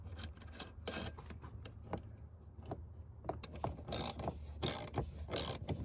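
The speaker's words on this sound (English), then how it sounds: "So now just use a washer and the nut to tighten up." A ratchet clicks in short bursts while a nut with a washer is tightened during a 12V air conditioner install, close up and fairly quiet, with no talking.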